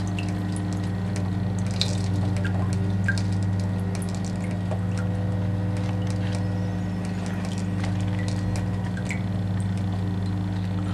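Water trickles and drips over the top of a small airlift pump running as slowly as possible, with a soft irregular patter and bubbling over a steady low hum.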